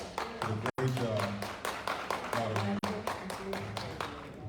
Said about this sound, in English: Let's give another round of applause for the Blairisms.